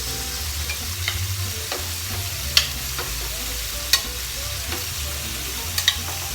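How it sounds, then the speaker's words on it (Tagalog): Tomatoes sizzle and fry in a hot pan, a steady crackling hiss punctuated by occasional clinks and scrapes as a utensil stirs them, close by with no talking. "Put in now our tomatoes."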